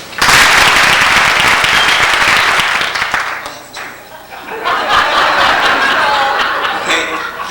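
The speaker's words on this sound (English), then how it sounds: "when I raise my hands, everyone applaud?" A studio audience bursts into loud, sustained applause that briefly dips, then swells again with scattered cheers and chuckles.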